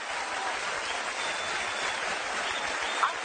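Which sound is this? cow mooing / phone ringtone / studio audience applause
studio audience applause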